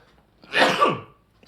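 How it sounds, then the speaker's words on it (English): A single sharp sneeze bursts out close by, brief and forceful, in an otherwise quiet moment. "I'm going to sneeze, guys."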